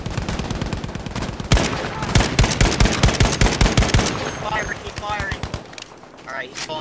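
Rapid machine gun bursts fired at a bomber in Battlefield V, a loud steady stream of sharp close shots that then fade into scattered noise as voices talk over the action.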